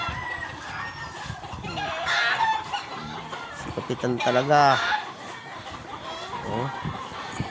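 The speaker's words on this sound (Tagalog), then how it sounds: "Ayan tuwang-tuwa yung manok eh." Chickens cluck and squawk close by in bursts, with someone speaking briefly over the birds.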